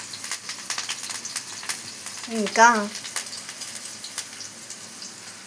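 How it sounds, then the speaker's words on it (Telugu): Onions and curry leaves fry in hot oil in a pan with a steady, crackling sizzle, and a voice speaks briefly over it. "ప్యాన్ పెట్టేసుకుని ఆయిల్ పెట్టేసుకొని ఆ ఆయిల్లో ఆనియన్స్ వేసుకున్నాము, కరివేపాకు వేసుకున్నాము"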